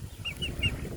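Hens in a temporary chicken coop made from brooding pens give a few soft, high clucks over a low rustling background, faint and brief.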